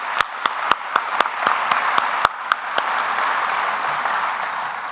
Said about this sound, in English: How about another round of applause for the chain of command?